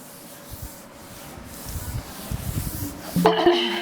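A duster rubs writing off a classroom board in a run of soft, scratchy strokes that grow louder, then a brief bright clatter at the end, close by with no talking.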